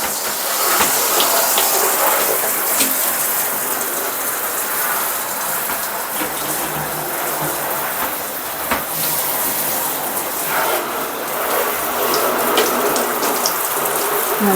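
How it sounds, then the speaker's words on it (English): Water sprays from a handheld shower head rinsing out a scrubbed bathtub, a loud, close, continuous hissing gush that runs unbroken with slight splashing shifts as the stream moves across the surface. "the shower head and I'm just going to rinse it all off."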